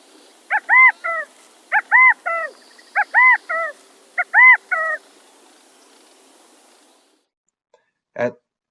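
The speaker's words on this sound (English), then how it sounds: "here's a California quail, you can listen to it." A California quail calls in a repeated three-note pattern, four times in steady succession, loud and close, followed by a short silence and one brief sound.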